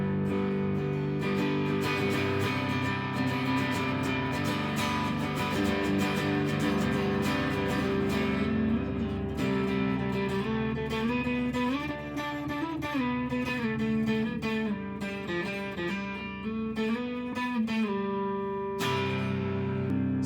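An electric guitar runs through a pedalboard with every knob set to noon, including an always-on pedal, playing steady chords and melodic lines continuously for about twenty seconds at a full, even level, with no talking.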